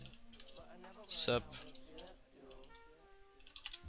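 Computer keyboard typing with soft, irregular key clicks spread across a few seconds, close and fairly quiet, under a voice and a brief louder burst near the middle.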